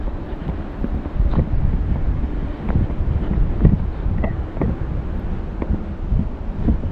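Gusty wind buffets the microphone with low rumbling bursts, rising and falling continuously, with faint clattering outdoors while fish are removed from a net.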